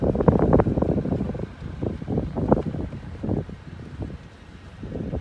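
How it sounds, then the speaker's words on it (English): Strong wind in the open Arizona desert buffets the microphone in continuous gusty rumbles, loud and close throughout with no talking. "One day the wind will die down when I'm trying to do a video."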